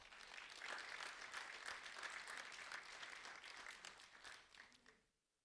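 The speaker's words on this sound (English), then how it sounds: "a round of applause for Liam Kluener, please." A crowd at an awards ceremony applauds steadily for about five seconds, a dense wash of clapping that fades out at the end.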